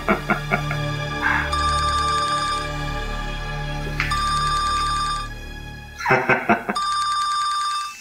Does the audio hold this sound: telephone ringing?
yes